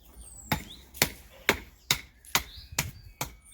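A puukko knife driven through wrist-thick seasoned timber gives seven sharp, evenly spaced chopping knocks, each a loud crack with a short decay, close by and with no talk.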